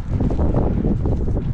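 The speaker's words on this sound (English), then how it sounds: "It is windy, man." Strong wind in snow and cold roars and buffets the microphone steadily, a dense low rumble with gusty surges throughout and no voices.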